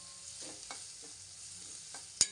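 Crab curry masala sautés in oil, giving a faint steady sizzle close by with a few soft scraping stirs and a sharp clink near the end, with no talk.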